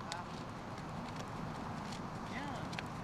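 Hooves clip-clop steadily as a horse walks during a riding lesson for a young dyspraxic girl, set against a constant background wash.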